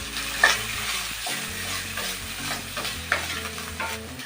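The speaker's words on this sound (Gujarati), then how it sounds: "બધા જ કઢાઈમાં એડ કરી દેશું અને શાકભાજીને ઘીમાં સાતડી લેશું" Mixed vegetables sauté in ghee in a kadai, with a steady crackling sizzle and the scrape and clink of a spoon stirring them throughout.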